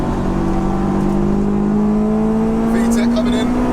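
Supercharged Honda S2000 engine revving hard as VTEC engages, a loud rising tone climbing steadily in pitch from inside the car, with voices talking over it.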